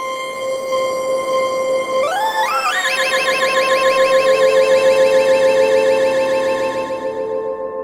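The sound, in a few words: Sonicware Liven Ambient Ø synthesizer pattern with delay effect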